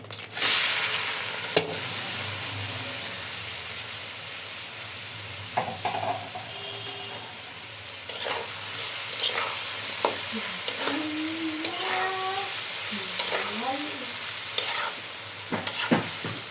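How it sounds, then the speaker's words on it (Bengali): Marinated vegetables fry in hot oil in a home kitchen, giving off a steady close sizzle while a utensil scrapes and stirs through the pan, with occasional clinks and squeaky scraping tones. "এখন আমি সবজিগুলো ভেজে নিব, যে সবজিগুলো যে মেখে রেখেছিলাম"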